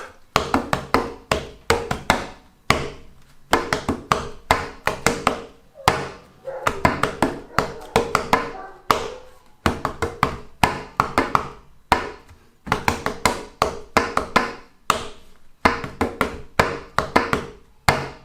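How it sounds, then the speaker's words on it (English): Hands clap and tap on a tabletop in a steady, repeating rhythm, sharp wooden knocks in short bursts with brief pauses between phrases, close and fairly loud. "Take your hands and let's clap on the table or tap on the table"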